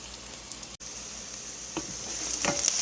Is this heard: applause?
no